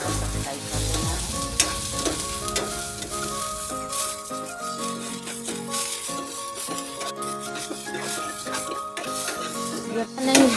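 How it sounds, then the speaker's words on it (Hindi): Garlic cloves and tomato fry in oil in a pan for a chutney, a steady close sizzle with occasional scraping and stirring of a utensil against the pan throughout. "लहसुन की कलियाँ भी मैं डाल देती हूँ। फ्राई कर लेना है।"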